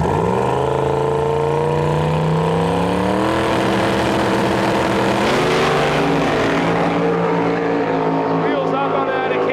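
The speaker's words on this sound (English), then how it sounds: "Wheels up on that Acadian. Russ is out front, 470. Wow, 156 mile an hour pass." Drag-race engine roar from a big-tire final at Saskatchewan International Raceway, a twin-turbo GTO against a nitrous Acadian, loud sustained revving that climbs in pitch through the run, with commentary talking over it throughout.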